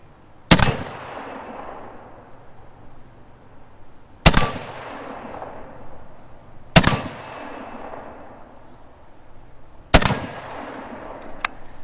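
Four loud, sharp gunshots ring out from a Saiga hunting carbine outdoors, spaced a few seconds apart, each with a long, decaying echo, and no talking.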